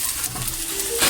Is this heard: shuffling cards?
no